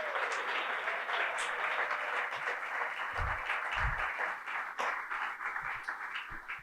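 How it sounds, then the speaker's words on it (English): Audience applause for a team of event volunteers standing up, a steady wash of clapping from a crowd that runs throughout, with a few low thumps partway through. "give them a big round of applause because they do an amazing job"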